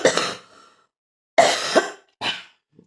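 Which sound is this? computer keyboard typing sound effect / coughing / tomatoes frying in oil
coughing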